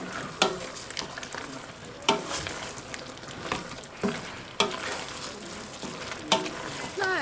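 Cauliflower purée stirred in a frying pan, a soft sizzle underneath with a handful of sharp utensil scrapes and knocks against the pan at irregular intervals, close and moderately loud.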